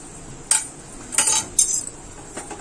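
A spoon clinks and scrapes against a metal pot while mixing jaggery with cardamom and dry ginger powder for puran poli, a few sharp bright clinks in an irregular rhythm, close and clear.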